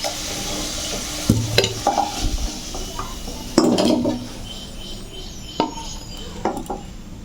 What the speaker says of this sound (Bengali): এই তেলে মাংসটা দিয়ে দেবো।